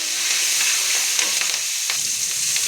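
Loud, continuous crackling sizzle of mustard seeds spluttering in hot oil, with scattered sharp pops over a steady hiss.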